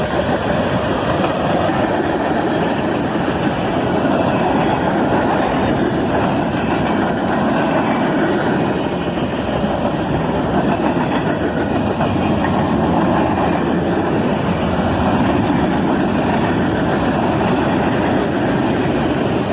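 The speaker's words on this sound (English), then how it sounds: "lead a southbound manifest train" A southbound manifest freight train led by ES44AC and AC44CW locomotives rolls past close by, a steady loud roar of engines and wheels with continuous rail clatter throughout.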